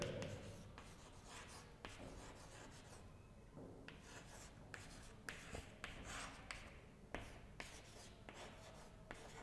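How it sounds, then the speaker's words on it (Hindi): Chalk or marker scratches across a board during a history lecture, in a series of quick rubbing strokes with short pauses between bursts, fairly close and with no talking. "तो यहाँ पे मैं लिख दे रहा हूं फीचर"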